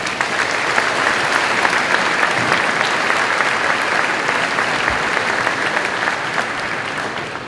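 Sustained applause from a high school graduation crowd, a thick steady patter of many clapping hands holding at full strength throughout and easing slightly at the end.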